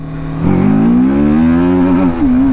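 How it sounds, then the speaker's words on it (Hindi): A TVS Apache RTR 310 motorcycle engine is heard up close as the throttle is twisted: a steady idle hum jumps into a loud, rising rev that holds and wavers before settling back slightly. "जिस टाइम मैंने थ्रोटल को घुमाया उसी सेकंड बाइक पुल करने लग जाती है।"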